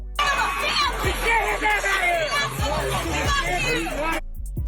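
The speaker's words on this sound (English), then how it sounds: "you can hear the mob, the crowd going in, they using profanity, they cussing the dude out" Agitated mob of people shouting and cussing at a man during an arrest, a dense babble of overlapping angry voices with louder yells and thumps, cut off abruptly near the end.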